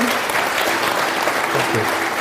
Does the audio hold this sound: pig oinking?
no